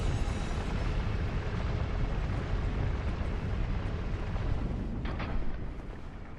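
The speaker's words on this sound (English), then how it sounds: "His magic effect is the same sound effect as Nito's explosion." A magic spell effect from Dark Souls 2: Scholar of the First Sin, sounding like Nito's explosion, plays as a deep, loud, roaring blast that rumbles on for several seconds, with a brief sharper crackle near the end.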